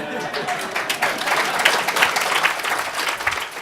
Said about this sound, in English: I got a clap in the end